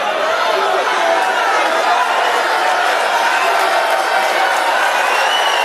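A large political rally crowd cheers continuously, a dense, loud wash of voices and applause that holds steady without any gaps.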